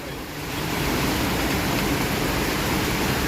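Floodwater from heavy rain rushing past in a loud, continuous broadband roar that swells in over the first half second and then holds steady.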